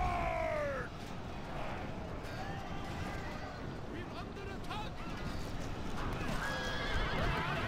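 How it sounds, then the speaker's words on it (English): Horses neigh and whinny as they die in a battle in the video game Rome: Total War, a loud shrill whinny followed by more distant cries over galloping hooves and the dense roar of combat. "There are a lot of horses dying."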